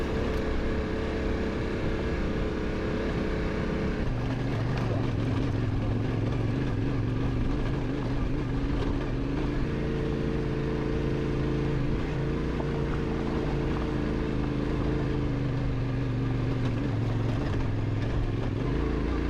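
Steady engine drone of a vehicle riding a high-plateau two-track trail in Wyoming's Bighorn Mountains, loud and continuous with a shift in pitch partway through, no talking.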